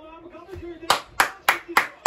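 Hands clap in a quick burst of about five sharp, close claps at an even rhythm, following a brief murmured tone, with voices present during the clapping.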